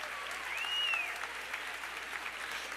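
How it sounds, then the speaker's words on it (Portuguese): An audience applauds during a Brazilian motivational talk, with steady, dense clapping that swells near the start and carries on throughout, and a brief rising whistle cutting through early on. "Pode aplaudir."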